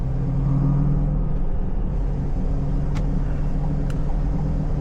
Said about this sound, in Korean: 저는 이 가상 사운드도 되게 좋더라고요 들리실지는 모르겠는데